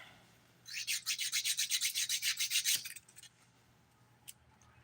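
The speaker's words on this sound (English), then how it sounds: "Filing pretty much straight down right now." A nail file rasps quickly against a fingernail during a dip powder manicure, about a dozen rapid, even strokes close up in a quiet room, then a few faint scrapes.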